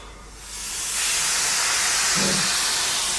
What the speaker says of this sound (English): I fell in love with the place originally because of the steam trains